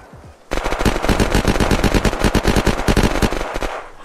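Rapid automatic gunfire from zombie shooting in the game Unturned, a loud, dense burst of shots that starts abruptly after a short quiet lead-in and rattles on for several seconds before tapering off.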